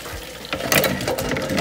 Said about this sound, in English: Add cold water.